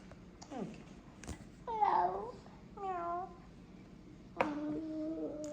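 A cat meows several times indoors in a home with a baby and young children, each meow a short rising-and-falling cry spaced a second or so apart and fairly quiet, with soft household sounds between them.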